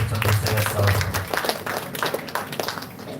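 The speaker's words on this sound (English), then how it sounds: "So give a round of applause to Dr. Chandrasekhar." Audience applause at a national seminar on AI, clapping for a keynote speaker; a dense, loud burst of hands that thins out over about three seconds, with a low steady hum underneath.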